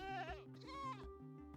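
A goat in Minecraft snapshot 21w13a lets out a few close, wavering bleats in quick succession, loud and alone with no talking.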